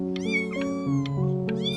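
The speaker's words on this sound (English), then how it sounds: "You just happened to find a stray cat in the alley." Cat meowing in the video game Before Your Eyes, a few quick drawn-out meows and caterwauls layered over a sustained tonal musical drone, close and clear with no voices.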